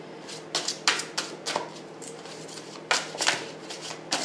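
Tarot cards being shuffled for a reading, heard as quick, crisp riffling bursts close up, several rapid flurries with short gaps between them.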